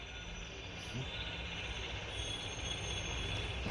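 Train rolling along in the video game Granny Chapter 3, a steady continuous rumble with faint wheel squeal, moderately quiet throughout.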